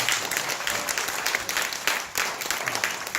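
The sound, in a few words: congregation applause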